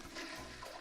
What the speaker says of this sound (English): Flush and sanitize.